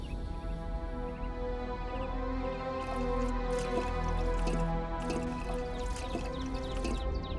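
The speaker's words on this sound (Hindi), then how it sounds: "आ गया पानी। अरे वाह।" Water runs out and drips steadily in a scripted Hindi horror drama scene, a continuous wet trickle with repeated drip accents, fairly close and alone without talk.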